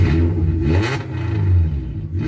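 A car engine revs through an open exhaust after an exhaust leak has been welded, giving a loud, close, rough burst that rises and falls with no one talking.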